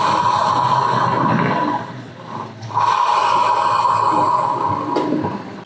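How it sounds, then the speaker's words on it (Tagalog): Rear wheel of a Honda ADV 160 scooter with a faulty torque drive bearing gives a sustained grinding whir with a steady tonal whine, dipping briefly midway before resuming, close and fairly loud. "pag ganun yung tunog, torque drive bearing ang sira niyan"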